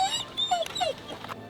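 A fire brigade search dog gives several high, thin whimpers and yips in quick succession, close and fairly soft, with a brief sharp noise at the end.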